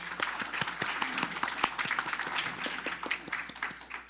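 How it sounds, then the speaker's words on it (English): Applause at a city council regular meeting, a sustained round of clapping from a modest crowd in a room, steady and fairly soft, with a brief voice or two underneath. "So let's give him a round of applause for his presentation."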